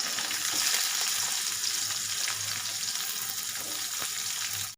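Chopped onion with crushed garlic and chili sautéing in a pan for a bitter gourd dry curry, a loud continuous sizzle with occasional stirring scrapes, close and steady with no talking.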